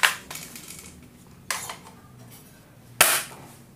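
D'Cobra M802 spring airsoft sniper rifle shooting 0.2 g 6 mm BBs through a chronograph, with three sharp close snaps spaced roughly a second and a half apart, the last one loudest.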